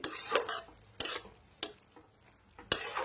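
Crushed ginger, chili powder and spices frying in a pan for a Bengali cabbage and potato curry, stirred with four sharp scraping strokes over a soft, steady sizzle, close and alone.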